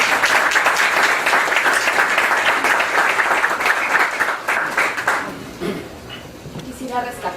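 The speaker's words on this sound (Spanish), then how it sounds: "Fuertes aplausos a la doctora Leslie Yatas." Strong, dense applause from an audience at a bar association event in Lima, loud and continuous for about five seconds before tapering off, with a voice speaking near the end.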